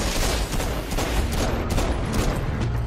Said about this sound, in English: Who the fuck is shooting me now?